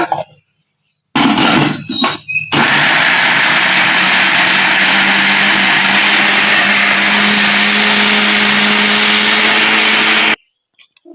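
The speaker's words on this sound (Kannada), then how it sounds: "ಈ ತರ ಮುರಿದು ಇಟ್ಕೊಂಡಿದ್ನಲ್ಲ ಅದನ್ನ ಮಿಕ್ಸಿ ಮಾಡ್ಕೊಳತ್ತೀನಿ ಈಗ" A kitchen mixer grinder blends broken pieces of food, roaring loud and steady for about eight seconds after a few brief start-up bursts, then cutting off abruptly.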